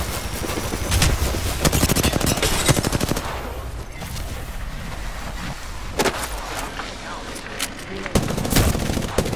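Rapid, dense gunfire from a video game shootout rattles in irregular bursts and sharp single cracks, loud and close, keeping up a steady background of battle noise throughout.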